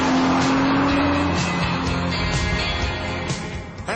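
A Chrysler car with a gearbox prone to jumping out of first gear pulls away and accelerates hard, its engine note loud and close with a rising whine and a faint squeal from the tyres.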